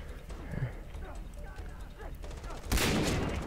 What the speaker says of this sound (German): jetzt schieße ich an ihm vorbei